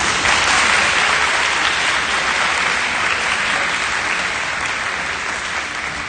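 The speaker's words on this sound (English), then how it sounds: "Let's give our band a round of applause." A high school awards day crowd gives the school band a round of applause: loud, dense, continuous clapping from many hands filling the room, holding steady and tapering only slightly toward the end.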